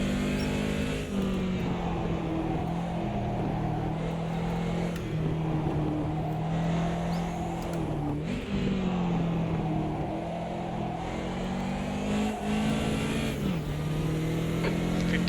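A 2002 BMW turbo racing car engine in a racing video game, on the Adelaide circuit, drones steadily and loud throughout, with pitch rising and dipping as it revs and shifts gears.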